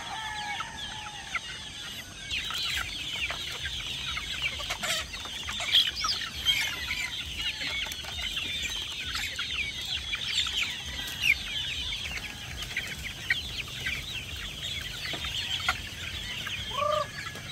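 Chickens and young chicks on a farm clucking and peeping, many overlapping calls at moderate distance, a continuous busy chatter with occasional louder squawks.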